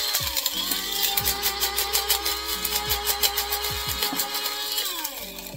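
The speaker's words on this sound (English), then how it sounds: "You take your little grinder, crunch them up in there." A small motorized grinder crunching black-eyed pea shells whirs with a rhythmic crunching pulse, close and steady for several seconds, with no voices.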